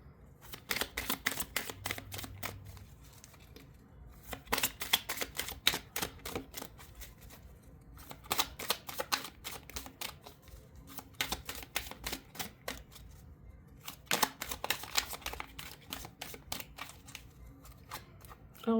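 Tarot cards being shuffled by hand in repeated bursts of quick, crisp flicking and riffling, fairly close, with short pauses between rounds and no talking.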